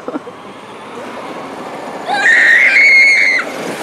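A boy screams while sledding outdoors, a long sustained high-pitched yell over steady wind and background noise.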